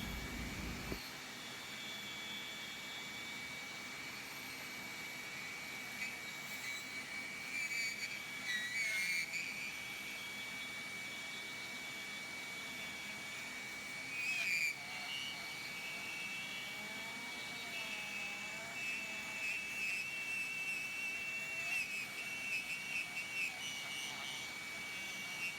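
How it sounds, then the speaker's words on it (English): A rotary carving tool drives its bit through a carved owl wing, giving a steady, close, high-pitched whine with a faint chattering edge that runs unbroken for the whole stretch. "Now you can really hear the bit chattering"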